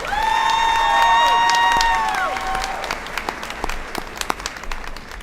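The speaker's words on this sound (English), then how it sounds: "One more round of applause for the Brentwood girls volleyball team." A crowd applauds and cheers for the Brentwood girls volleyball team at a 2018 awards show. Sustained tones ring out first, then loud, dense clapping carries on and gradually thins.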